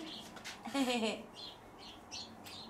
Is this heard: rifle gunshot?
no